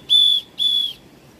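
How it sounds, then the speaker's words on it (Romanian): A hand whistle carried as a bear deterrent on a forest hike to a mountain lake and waterfall gives two loud, shrill blasts in quick succession, each about a third of a second, over quiet outdoor background. "Am fluierul."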